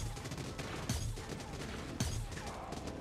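Gunfire in the video game Void Bastards comes as two spaced heavy shots over a dense, rumbling game soundscape, punchy and close but fairly quiet overall.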